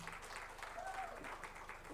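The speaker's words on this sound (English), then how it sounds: "Shall we clap?" A conference audience applauds as a speaker is introduced, a steady, fairly faint patter of clapping lasting a couple of seconds, with voices murmuring underneath.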